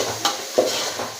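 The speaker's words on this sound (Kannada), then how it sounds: "ನೋಡಿ ಟೊಮೊಟೊ ಹಾಕ್ತಾಯಿದ್ದೀನಿ ನಾನು" Tomatoes are stirred into a masala frying in a pan for Hyderabad-style dum biryani, giving a close, steady sizzle with a couple of quick scraping stirs.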